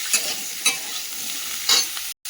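Potato, eggplant and bitter gourd sauté in a pan with salt and turmeric, giving a steady sizzle under a few sharp spatula scrapes. It is close and continuous, with no talking, and cuts off abruptly near the end.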